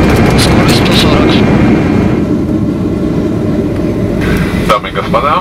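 An airliner touches down at Adler airport in Sochi, its loud, steady roar filling the cabin without a break, with voices faintly heard over the engine noise.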